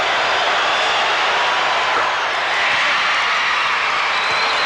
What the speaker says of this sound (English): you'll hear this crowd from the Palace here in Auburn get up in unison on the boos